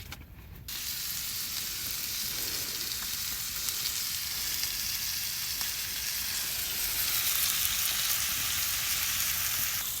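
Bacon sizzles steadily on a small homemade griddle outdoors, a loud, continuous crackling hiss that starts after a brief moment and holds even for the whole stretch, with no talking.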